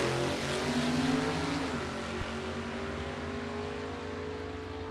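A 1962 Chevrolet II drag race car with a small block Chevrolet engine roars at a vintage drag race, a loud, steady engine drone whose pitch shifts slightly as it runs, heard at a distance with no talking.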